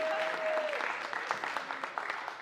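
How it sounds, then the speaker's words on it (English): An audience at an MLK holiday conference gives a round of applause, dense steady clapping that fills the room and trails off slightly, with a brief tone at the start. "You can give me a round of applause for that."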